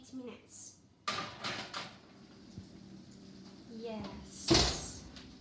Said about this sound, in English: Now I'm gonna put it in the oven for 8 minutes.